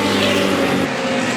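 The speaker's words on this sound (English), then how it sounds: "Great side as the cars come through the chicane" Historic racing cars roar through the chicane at Goodwood's Members' Meeting, a loud, close, continuous engine drone with a steady pitch and no pauses.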